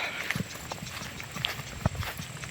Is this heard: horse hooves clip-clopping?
yes